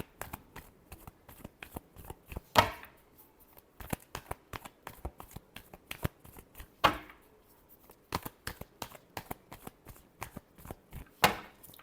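Tarot cards are shuffled by hand in quick, rapid riffles of crisp papery flicks, with a few louder snaps and slaps as the deck is squared, close and alone without talk.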